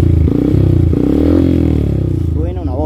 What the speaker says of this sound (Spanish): una aceleradita ahí para más o menos que vean el RPM